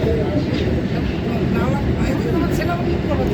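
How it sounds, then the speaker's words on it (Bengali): A Kolkata metro train runs from Tollygunge into the underground tunnel, a continuous low rumbling roar of wheels and motors heard from inside a carriage, with faint voices mixed in. "আমাদের ট্রেন টালিগঞ্জ স্টেশন ক্রস করে গেল, তারপরে মাটির নিচে ঢুকে গেল।"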